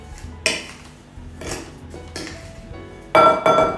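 Sugar and flour being stirred together in a bowl for blueberry muffins, giving repeated clinks and scrapes of a utensil against the bowl, with a louder burst of clinking near the end.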